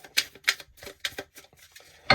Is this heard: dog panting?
no